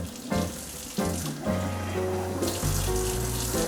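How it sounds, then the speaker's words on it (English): Hot water from a kitchen tap runs over the outside of a bowl while making cinnamon rolls, a steady close hiss and splash that holds through the whole stretch with shifting tones as the flow hits the bowl. "So I'm just going to run it under the hot water with the outside of the bowl"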